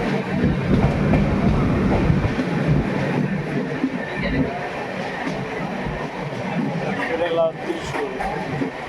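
A moving train leaving Thrissur station rumbles steadily with low clatter and rattling of carriages, voices faintly audible over the continuous noise.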